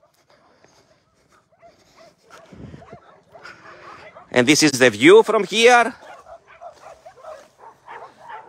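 An abandoned, tick-covered puppy outside an animal shelter whimpers and cries in a close, high, wavering burst midway through, with quieter yips around it and a person talking before and after.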